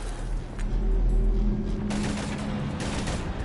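Gunfire in Mass Effect 3, a sustained rattling volley of rapid shots over about three seconds with a deep rumble early on, moderately loud.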